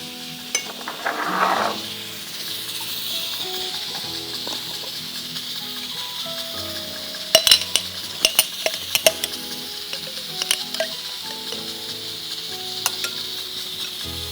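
Ginger garlic paste sizzles in melted butter in a pan: a steady, soft frying hiss runs throughout, broken later by a cluster of sharp spoon clinks and scrapes against the pan, with no one talking.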